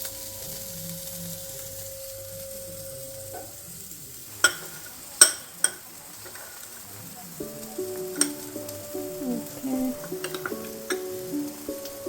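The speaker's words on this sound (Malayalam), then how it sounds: "ഇത് ഓഫ് ചെയ്തിട്ട് ക്രീം കൂടെ ആഡ് ചെയ്ത് ജസ്റ്റ് മിക്സ് ചെയ്യാം." Cream being stirred into a corn and paneer stir fry in a pan with the heat off, soft scraping stirs and a few sharp clinks of a spoon against the pan, fairly quiet with a faint hum beneath.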